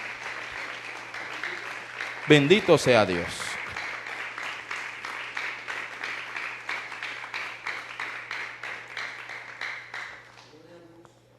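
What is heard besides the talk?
congregation applause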